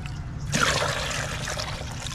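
Water trickles into a filling container in a rooftop garden, a quiet background murmur that swells into a brighter, steady splashing stream after a brief pause and keeps running.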